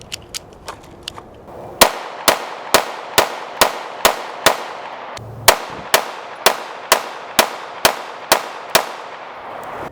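A Walther CCP M2 handgun fires Fiocchi ammunition at a shooting range. About a dozen sharp, loud reports ring out at a steady, even pace, preceded by a few fainter distant shots.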